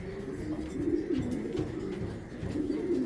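A female racing pigeon of large build coos softly in repeated low, throaty phrases. The calls are fairly close, over a quiet room background.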